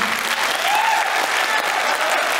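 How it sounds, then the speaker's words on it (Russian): Strong, dense applause fills a concert hall, the audience clapping continuously and loudly with faint whistles or calls mixed into the even roar of hands. "давайте вы мне это все покажете аплодисментами"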